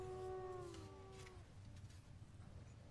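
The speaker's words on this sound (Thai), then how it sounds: "คุณเพิ่งได้ยินเสียงหมาป่าหอนได้ยินไหม" Wolves howl in an ancient Bulgarian forest, several long wavering tonal cries overlapping for about a second and a half before fading, leaving a low rumble of wind and distant forest noise.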